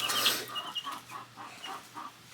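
Several baby chicks, a few weeks old with feathered wings and tails, peep in a quiet indoor space. Their short, high cheeps come in uneven bursts, close by and fairly faint, with a louder flurry at the start.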